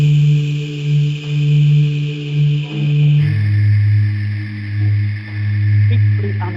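Two sustained chord tones sound one after the other, each root note held for about three seconds with a pulsing, organ-like swell, the second sitting noticeably lower than the first; played alone, loud and steady.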